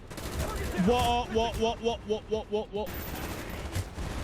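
In the video game Call of Duty: Black Ops 1, rapid gunfire bursts rattle in a quick rhythm of repeated shots, heard alongside a voice.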